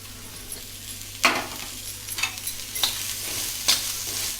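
Chopped onions fry in a hot pan for Malvani black masala, giving a steady close sizzle broken by several sharp scraping stirs and light clinks.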